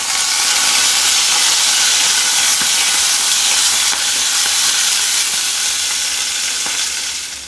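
Peas sizzle loudly as they drop into hot spiced oil with asafoetida, a dense, steady hiss of frying that holds close and continuous for the whole stretch, with faint pops and crackles scattered through it.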